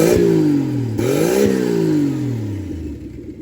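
A boosted 1963 Plymouth Valiant Super Six engine idles loud and close with no load. It blips the throttle twice, rising and settling each time, then drones down to a steady lower idle.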